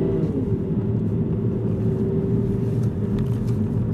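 An Aston Martin Virage engine hums as a steady low rumble from inside the car, even and moderately loud with no sharp revving.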